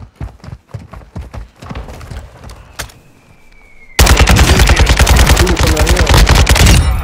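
Warzone 2.0 gameplay: rapid footstep-like thuds and light clatter give way to a sudden, loud, sustained stretch of close automatic gunfire that fills the last few seconds.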